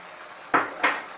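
Canned sardines drop into a pan of sautéed bottle gourd with two brief wet sizzling splashes, close and fairly quiet, with no talking.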